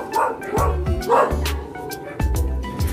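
A dog barks in a quick run of sharp, close woofs and yips, loud and repeated, with a person talking briefly over it at a house.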